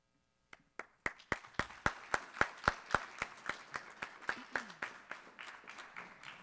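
A small audience claps at a student incubator presentation event, a sparse run of distinct sharp claps that start suddenly, speed up into a steady rhythm, then thin out and fade.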